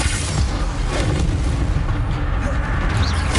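A Bombarda spell blast in Hogwarts Legacy, a dense, loud rumbling boom that fills the whole stretch with continuous low crackling roar, up close.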